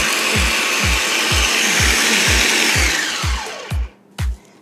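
A kitchen blender on low speed grinding pine nuts and garlic for pesto, with a steady pulsing thump under a loud whirring roar that cuts out near the end, leaving two short bursts.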